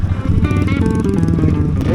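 A motorcycle rides close by with a loud, steady engine drone and rattling texture, its pitch wavering slightly as the throttle shifts.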